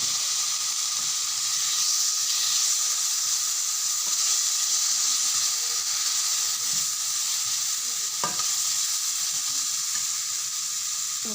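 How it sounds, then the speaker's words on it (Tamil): Tomatoes sauté in a pan for a sardine fish curry, a constant close sizzle and hiss of frying with occasional stirring scrapes, loud and unbroken. "தக்காளி நல்லா வதங்கட்டும்."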